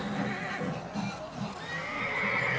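A horse whinnies loudly and up close, a drawn-out neigh with a shaky pitch, set against hoof clops and outdoor noise.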